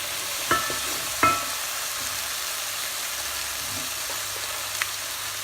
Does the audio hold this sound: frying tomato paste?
yes